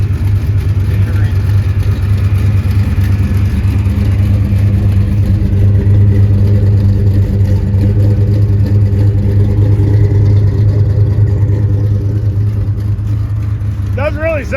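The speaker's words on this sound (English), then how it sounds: "Doesn't really sound like a car that's been sitting 7 years," A 1972 Chevrolet Chevelle, revived after sitting seven years, idles with a loud, steady, rumbling engine drone close by, its pitch wavering slightly near the end.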